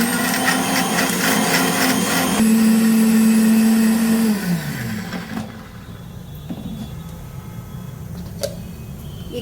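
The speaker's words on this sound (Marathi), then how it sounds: "हे मिक्सरला लावून फिरवून घेऊ" A kitchen mixer grinder whirs loudly, grinding coconut and almonds with a little water into a paste, a steady motor drone for several seconds that winds down and stops, leaving quiet room sound with faint clicks.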